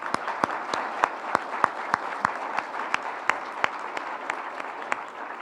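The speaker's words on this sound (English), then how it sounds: "Let's give you a round of applause." A small audience at a forum on recidivism gives a round of applause: a steady run of evenly spaced, sharp claps over a soft crowd wash, fairly close and moderately loud.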